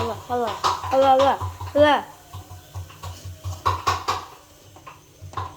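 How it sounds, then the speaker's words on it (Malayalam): A spoon stirring food in a metal pot at home, giving light clinks and scrapes under a child's chatter and other voices nearby. "ഇപ്പം സ്പൂൺ എടുത്തിട്ട് ഇളക്കി കൊടുക്കണം"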